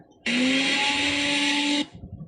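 A blender whirs loudly and steadily for about a second and a half, starting and stopping abruptly, with a rising motor pitch.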